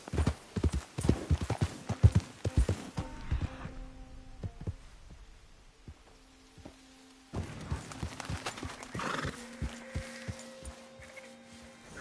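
Horse hooves clopping in a PS4 game, loud and rapid at first, then slowing to sparse steps over a steady tonal hum, with a whinny near the end as the trotting picks up again.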